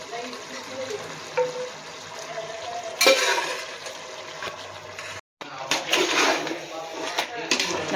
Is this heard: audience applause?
no